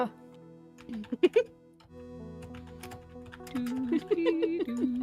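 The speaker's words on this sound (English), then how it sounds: "Definitely picking up my typing." Fingers type on a computer keyboard in quick, irregular bursts of clicks, close and fairly quiet, while a person talks over the tapping.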